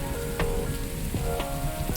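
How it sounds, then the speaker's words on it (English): Steady rain patters close by with a dense, even hiss, and faint brief knocks or clicks mix into the wash of drops. "Yeah, I love that rain."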